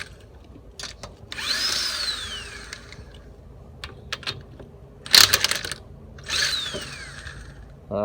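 An air impact gun running in reverse spins lug nuts off a front wheel of a 2005 Hyundai Elantra. Two separate whirring bursts rise and then fall away, with a short clatter between them, close and fairly loud.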